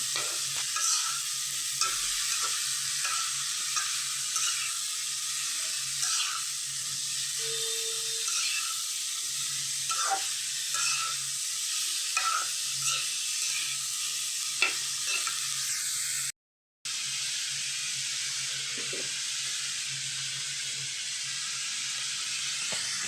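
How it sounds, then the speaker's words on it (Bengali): Mixed vegetables stir-frying for a bhaji, a long steady sizzle with frequent light stirring knocks and scrapes, a short cut partway through. "এখন এগুলো দিয়ে একটা ভাজি করুম"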